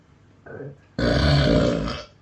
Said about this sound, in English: You're gonna hear me do some rather loud belching in a minute